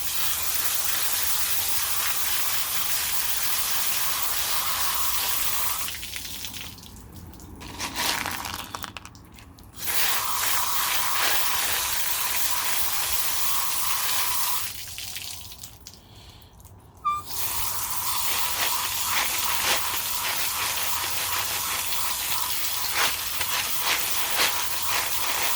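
Water sprays in a loud, steady hiss to clean augite crystals outdoors, running in long bursts broken by a few short pauses.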